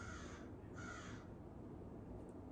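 A crow caws in two harsh, drawn-out bursts against a steady outdoor background, fairly distant and with no talking.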